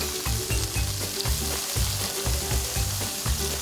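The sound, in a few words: cherry tomatoes blistering in a frying pan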